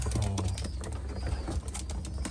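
Racing pigeons coo softly in a loft, low throaty calls repeating among steady rustling and wing movement, fairly close and without talk.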